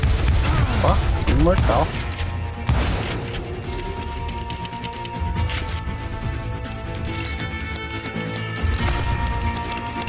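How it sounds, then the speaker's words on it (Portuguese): Gunfire in the Western video game Call of Juarez Gunslinger, with several sharp shots early on and scattered cracks later, heard under frequent talking and a steady game soundscape. "Quem é o esperto que tá me dando tiro aqui?"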